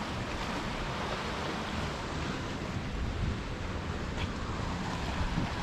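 Ocean waves surge onto a rocky coast close by, a continuous churning wash with swelling pushes of water and some wind buffeting, no talking.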